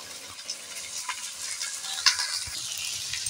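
Onion and ginger sizzle in a little oil in a pan, a soft continuous crackle with a few brief stirring clinks, close and fairly quiet with no talk.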